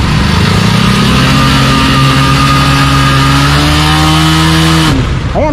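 A motorcycle engine stuck on the roadside with a jammed chain runs loud and close after the chain is lubricated, revving steadily with rising pitch before cutting off abruptly near the end.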